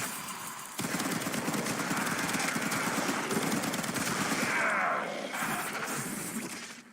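Titania fires her Dex Pixia weapon in a video game, a dense, continuous rapid barrage of gunfire shots with crashing impacts, loud and sustained for several seconds before tapering off.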